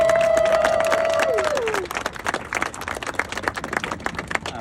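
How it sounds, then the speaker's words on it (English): A crowd at a grand opening ribbon-cutting event gives a round of applause, scattered clapping continuing after a voice fades out at the start. "Mark, if you could stand and take a round of applause"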